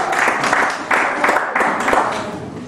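Church congregation applauding and cheering in praise during a worship service, a sustained dense wash of clapping with rhythmic surges, fairly loud and close, voices mixed into the noise.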